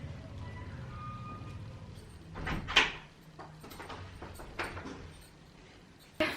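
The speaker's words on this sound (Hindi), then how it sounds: "मैं दरवाजा खोल देती हूँ, राजा जी आ गए हैं।" A door is opened inside a quiet home, a brief scraping creak in the middle with a couple of soft knocks and clicks afterwards, all faint against a low room hum and no talk.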